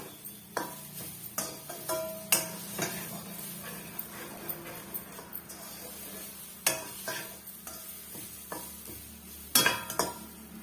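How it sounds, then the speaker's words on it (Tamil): Grated coconut roasting dry in a pan, heard as a soft continuous sizzle broken by repeated close scraping and tapping strokes of a spoon stirring against the metal. "அதனால தான் இது போல் நம்ம தேங்காவை வறுத்து எடுத்துக்கிறோம்"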